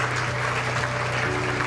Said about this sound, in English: Please welcome His Excellency with a big round of applause.